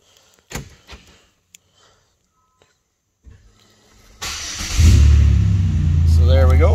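After a few faint clicks and knocks, a 2006 Chevrolet Impala LT engine cranks and fires by remote start, settling into a steady, close idle rumble.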